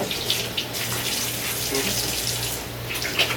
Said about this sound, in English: first things first, wash our hands